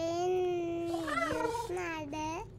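A kitten in the horror game The Baby In Yellow gives a few drawn-out, whiny meows, close and clear, rising and falling in pitch, with a brief break between calls.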